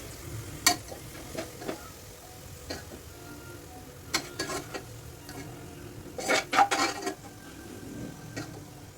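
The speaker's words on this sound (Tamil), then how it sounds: "முந்திரி பருப்பை சேர்த்து அதில் போட்டு நல்லா வதக்கி அள்ளி ஒரு தட்டையில் தனியாக வச்சிரு" Cashew nuts and onions sauté in oil for mutton biryani, a low steady sizzle punctuated by sharp scattered ticks and clacks of a spoon against the pan, clustering into a busier burst of stirring.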